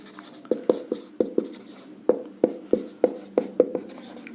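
Sharp marker or chalk strokes on a classroom board, a rapid run of distinct taps and squeaks in uneven rhythm, close and clear with no talking.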